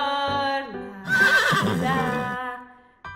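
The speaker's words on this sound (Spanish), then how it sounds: "El caballo en el autobús hace ney, ney, ney." A horse neighs loudly and close, a long shaky whinny following a few softer snorts and calls, set inside a Spanish children's song about animals on a bus, with no speech.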